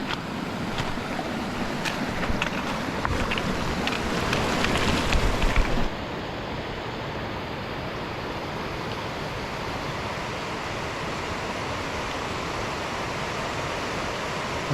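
Flowing creek water along a hiking route, heard as a continuous broadband rush that is louder and rougher for the first six seconds, then settles into a steadier, softer hiss with no voices.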